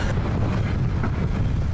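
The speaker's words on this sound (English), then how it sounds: "It's a little windy out here today too." Wind blowing steadily across a fishing boat off Kodiak Island, a continuous low rushing buffet against the microphone with no voices.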